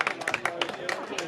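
Football fans at a Hampton & Richmond match clap in quick rhythmic bursts, several sharp hand claps in a row mixed with crowd voices close by.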